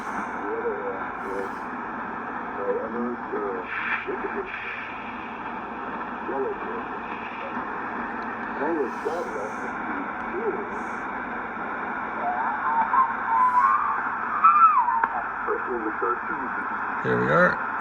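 A National NC-300 receiver tuned to a weak 40 m signal late at night gives a steady hiss and hum with faint, warbling speech-like fragments buried in the noise, held at a moderate, even level throughout.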